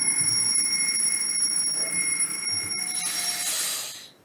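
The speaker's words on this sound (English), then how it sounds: "That's your low air alarm." A firefighter's breathing apparatus sounds its low air alarm: steady, loud, high-pitched electronic ringing tones that continue unbroken for several seconds and then cut off abruptly, heard alone without talk.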